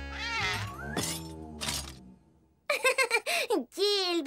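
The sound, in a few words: cat meowing in a box, cartoon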